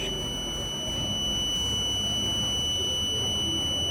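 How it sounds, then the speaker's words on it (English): A buzzer on a homemade medicine reminder box built with a Bolt module beeps with a continuous steady electronic tone, close and loud, over constant background noise and no speech. "So the buzzer start now beeping sound."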